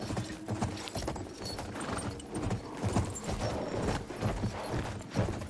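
A horse gallops in the video game Battlefield 1, producing rapid, continuous hoofbeats with a mechanical clatter throughout, fairly close and alone without speech.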